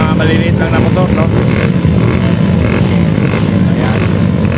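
Small enduro motocross motorcycles start a race at a barangay anniversary event, engines buzzing and revving together loudly and continuously, with a commentator talking over the noise.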